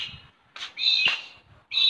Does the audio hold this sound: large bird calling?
yes